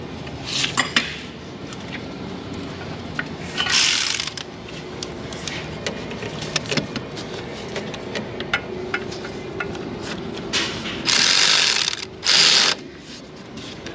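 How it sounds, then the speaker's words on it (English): A ratchet tightening bolts on a dash actuator in a 2007 GM Saturn with a Honda 3.5L engine: quick metallic clicking bursts with clinks and scrapes of tools, close by, with no talking. "We'll tighten down the two bolts on the side first."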